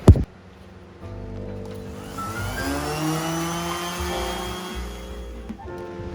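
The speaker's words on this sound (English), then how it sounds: "Let's keep sanding this thing." After a sharp thump, a power sander whirs up and runs steadily against a Honda CR-Z widebody front-end car body panel, its pitch shifting before it winds down.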